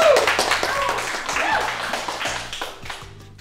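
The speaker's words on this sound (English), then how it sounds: "I like people to clap." People clapping in a bodywork workshop, a spread of sharp, uneven hand claps and taps mixed with loud cheering voices, fading somewhat toward the end.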